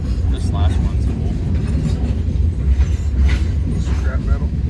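Norfolk Southern W62 freight cars, including maintenance-of-way cars, scrap metal loads and old railroad ties, roll steadily past nearby with a continuous low rumble and faint wheel clatter, while people talk over it.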